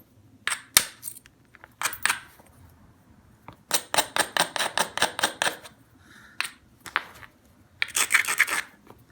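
A hammerstone strikes and rubs along the edge of a small stone spall during flintknapping, giving scattered sharp clicks and a rapid run of scraping taps, close and fairly loud with no talk.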